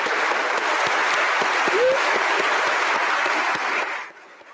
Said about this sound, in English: please show your appreciation with a round of applause for these remarkable students